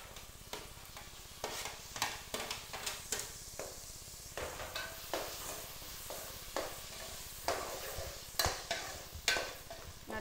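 Chopped tomatoes frying in hot oil for a crab gravy, with a steady sizzle under repeated scraping strokes of a spoon stirring the pan at an irregular rhythm.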